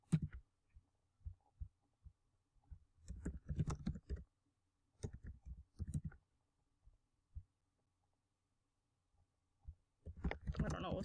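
Quiet, sparse clicks of someone typing a search keyword on a computer keyboard, with scattered keystrokes and short bursts of faster typing across the stretch.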